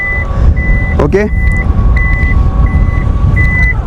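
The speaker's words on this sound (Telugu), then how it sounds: "బీప్ వచ్చిన తర్వాత ఆటోమేటిక్ లిఫ్ట్ అవుతుంది." A Maruti Victoris ZXI+ Automatic's powered tailgate gives a series of short, steady electronic warning beeps at regular intervals before lifting, heard close over a low hum, with a brief spoken word midway.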